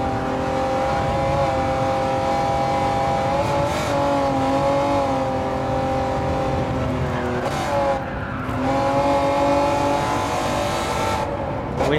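Race car engine of a Honda NSX in Gran Turismo 7, racing in rain: a loud, steady high-revving drone with shifting pitch as the car brakes and accelerates, with brief tire squeal, continuous throughout.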